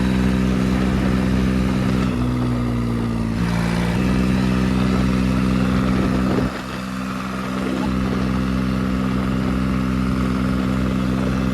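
A tractor engine newly fitted with a mesh-type silencer runs loudly up close, holding a steady low drone that shifts pitch briefly early on and dips once midway.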